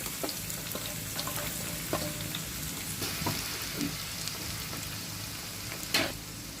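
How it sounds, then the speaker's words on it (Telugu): Onions and green chillies frying in hot oil in a kadai, a continuous close sizzle with a few louder crackles and occasional stirring scrapes, no voices. "ఆయిల్ హీట్ అయిన తర్వాత ఆనియన్ కట్ చేసుకున్న ఆనియన్స్ తర్వాత గ్రీన్ చిల్లీస్ వేద్దాం"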